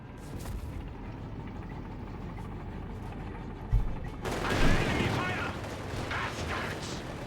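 Bazooka shots in the real-time strategy game Company of Heroes 3 give a sharp thump followed by a burst of crackling impacts and rumbling explosions, set against a dense battle din.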